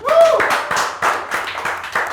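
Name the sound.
applause, hands clapping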